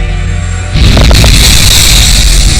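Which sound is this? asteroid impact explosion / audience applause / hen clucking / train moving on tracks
asteroid impact explosion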